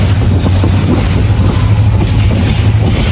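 Seen from the roof of a slowly moving train, wind roars and buffets the microphone loudly over a steady low rumble of the train, continuous and close, with no talking.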